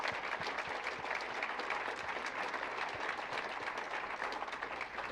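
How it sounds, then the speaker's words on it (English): Audience applause at a city's State of the City address as Parks Department staff stand to be recognized: dense, steady clapping from a sizable crowd that holds an even level for the whole stretch. "And a round of applause."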